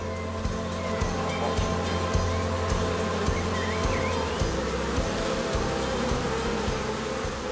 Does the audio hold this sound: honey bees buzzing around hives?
yes